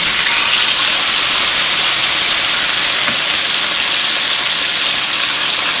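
A salmon fillet sizzles in a hot pan as it is flipped, with a loud, continuous hiss that stays close and constant throughout.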